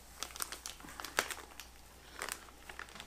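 Crinkly plastic rustling and crumpling of an MRE heating packet, close and fairly quiet, in irregular bursts with no talking.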